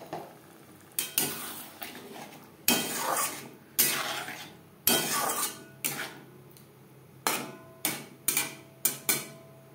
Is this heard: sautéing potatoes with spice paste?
yes